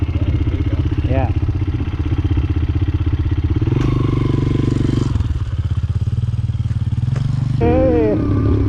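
A dirt bike engine on a ride at Metcalf chugs loudly and steadily close by, with a rhythmic mid-range thrum and short revs, while people talk briefly over it.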